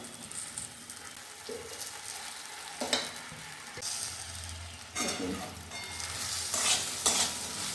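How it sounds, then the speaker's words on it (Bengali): Jujubes tossed with salt and turmeric for a sweet-sour pickle are stirred in a pan, quiet scraping and rustling strokes with a few louder scrapes, close and soft. "এই যে কুলগুলো নুন হলুদ দিয়ে আমি 2-4 বার নাড়াচাড়া করে নিয়েছি"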